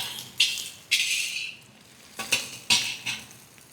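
Egg slowly stirred with roasted chicken in a pan for street-style chicken noodles, a few spaced scraping and clattering strokes of a utensil against the pan, close and fairly loud, with no voices.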